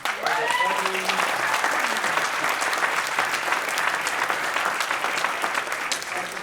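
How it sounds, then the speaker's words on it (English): Audience applause at a panel discussion, a dense, loud, sustained roar of clapping from a large crowd that continues evenly throughout, with a brief voice near the start. "Applause for my colleagues"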